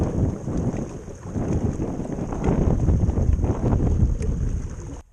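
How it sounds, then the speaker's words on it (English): Wind gusts buffet the microphone at a creek boat launch on a blustery day, a loud rumbling roar that swells and eases for several seconds before cutting off. "the conditions today are pretty windy"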